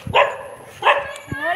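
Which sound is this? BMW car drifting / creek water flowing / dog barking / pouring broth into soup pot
dog barking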